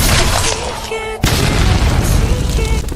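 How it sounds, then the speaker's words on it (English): A powerful explosion sound effect: a dense, loud rumbling roar with a sharp boom midway, followed by sustained heavy rumble and crackle. "A powerful explosion turns the sky the color of blood."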